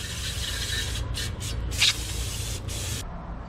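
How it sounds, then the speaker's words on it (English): Brake cleaner sprays from an aerosol can onto a B2200 brake part in bursty hisses, several short pulses then a longer continuous blast, close and loud over a low workshop hum. "Now we're gonna spray it with some brake cleaner, get some dust and grease off of it."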